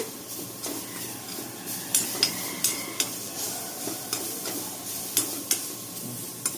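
Ginger and garlic sizzle in a pan while a utensil clinks and scrapes against it in irregular knocks, fairly close.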